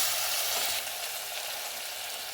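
Chili powder tipped into a pan of chicken curry with kandana kaya frying in oil, giving a close, loud sizzle that eases slightly after a moment and keeps hissing steadily.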